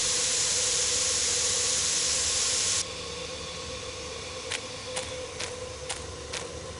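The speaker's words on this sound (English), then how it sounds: "This must be where the steam is escaping." A loud, steady hiss of escaping steam in a video game, Agatha Christie: The Orient Express, that cuts off partway, leaving a softer rumbling drone with a few faint metallic clicks.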